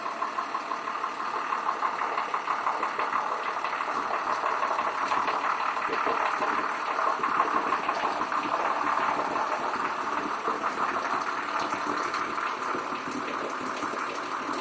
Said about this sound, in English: Just listen how the motor sounds.